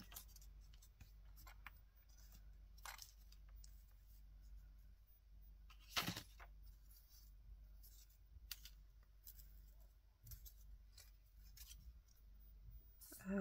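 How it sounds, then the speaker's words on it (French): Scissors cut through a paper envelope, heard close and quiet as scattered snips and rustles with a louder crunch midway. Nobody speaks. "L'enveloppe, je pense que je vais la couper de toute façon."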